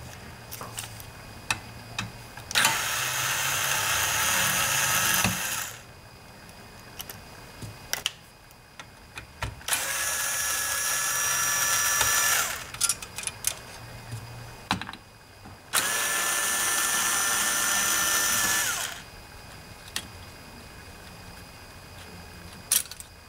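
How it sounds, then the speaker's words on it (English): Three separate bursts of a small electric screwdriver whirring, each a few seconds long, taking out the screws holding the metal shield over the heads and circuit board of a 5.25-inch floppy drive. Faint clicks and handling noises fall between the bursts. "I do that by removing these three screws."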